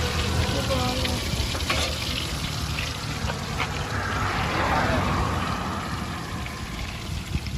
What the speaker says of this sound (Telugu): హైవేలో బైక్లు ఆపేసి చేపల ఫ్రై